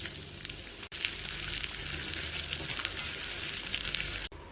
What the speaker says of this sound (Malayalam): ഒരു പാൻ ചൂടാക്കി കുറച്ച് നെയ്യ് ഒഴിച്ച് 1/4 ടീസ്പൂണിനേക്കാളും കുറച്ച് ചെറിയ ജീരകവും കുറച്ച് ചെറിയ ഉള്ളി വട്ടത്തിൽ മുറിച്ചതും ഇട്ട് വറുത്തെടുക്കാം